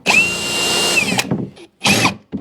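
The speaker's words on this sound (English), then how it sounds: "Now I'm going to have to drill out these 4 rivets" Power drill boring out rivets on a trailer bumper, a steady high whine for about a second that stops abruptly, then a short second burst after a pause, close and loud.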